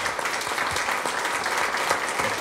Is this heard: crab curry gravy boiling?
no